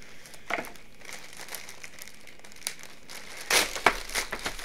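Plastic bag from a new keyboard and mouse being opened and crinkled, with sparse rustles early on and then a louder burst of crinkling and crackling toward the end, close and with no voices.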